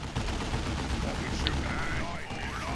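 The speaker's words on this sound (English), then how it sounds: "Slugga's driven off by the Shuriken Cannon." A Shuriken Cannon firing in a strategy video game, a dense stream of shots layered among busy battle noise, with voices present over the mix.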